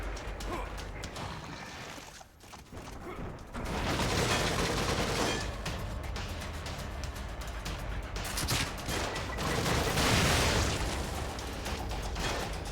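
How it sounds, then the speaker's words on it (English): Dense, sustained bursts of automatic gunfire from machine gun enemies in The Evil Within, loud and continuous with booming impacts, a short lull near the start, then heavy fire throughout. "Yep, machine gun enemies."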